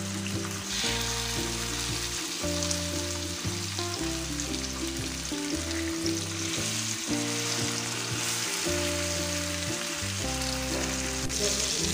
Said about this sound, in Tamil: தேங்காய் எண்ணெய் சேர்த்தி நம்ம மீனை பொரிக்க ஆரம்பிச்சிடலாம்.